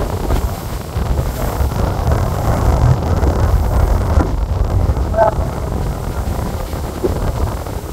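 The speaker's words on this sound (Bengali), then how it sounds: "নদীতে প্রচুর বৃষ্টি হচ্ছে এই মুহূর্তে, যে দেখতে পাচ্ছেন বৃষ্টি আস্তে আস্তে বাতাসের সাথে চলে আসছে।" Heavy rain and gusting wind sweep over the Meghna river as heard from aboard the passenger launch Karnafuli 14, a loud, steady roar of wind and water rushing around the vessel without pause.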